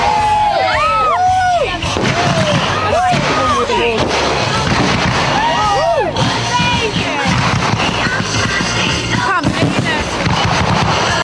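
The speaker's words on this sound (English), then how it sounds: "those fireworks are so loud, they're going to wake the bloody neighbours" Loud fireworks from a TV show, a continuous barrage of booms and crackles with rising whistles, played over music and crowd noise with a steady, dense loudness throughout.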